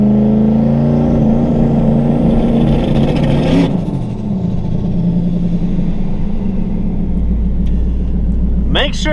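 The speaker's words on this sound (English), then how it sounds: "get on the trans brake, let go of the brake, and now you just floor it" A turbocharged Mustang with a TH400 automatic roars loudly while held on the trans brake, its deep throbbing engine rumble sustained throughout with a brief dip in revs, then a short high chirp near the end.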